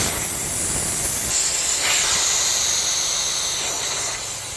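Compressed air rushes out of an air compressor tank through the pressure release valve underneath it, a loud, continuous close-up hiss that holds steady and eases slightly at the end.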